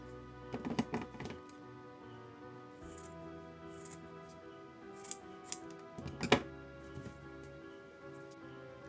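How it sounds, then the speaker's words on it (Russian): Scissors snip off a leftover piece of velvet fabric while making a handmade Christmas ornament, heard as a few sharp, close cutting clicks in short clusters with quiet handling noise between them. "Этот кусочек лишний, я его отрезаю."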